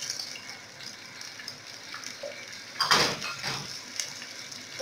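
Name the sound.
onions added to hot red palm oil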